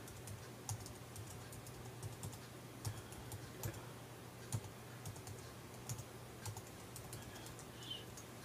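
Quiet, rapid clicking of a computer keyboard as someone types a title, with irregular keystrokes and a few louder taps over a faint hum.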